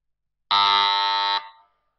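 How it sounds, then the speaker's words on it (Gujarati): A quiz buzzer in a team buzzer round at a campus quiz competition gives one loud, steady electronic tone lasting just under a second, then cuts off with a brief fading tail against silence. "જે ટીમ બઝર હિટ કરશે તેને જવાબ આપવો જોશે."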